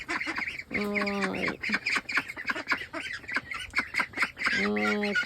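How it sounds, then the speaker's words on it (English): Ducks on a farm quack in two loud, close bursts of harsh, stacked honking calls amid other bird noise, while a person speaks briefly nearby. "Yes, hello, ducks."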